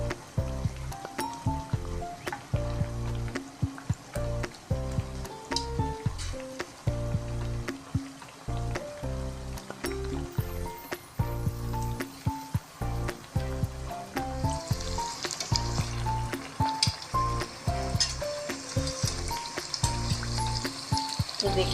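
Tandoori pakoras frying in oil over a medium-low flame, a steady bubbling sizzle under a busy kitchen bed of clatter and tonal background music, hissing brighter toward the end.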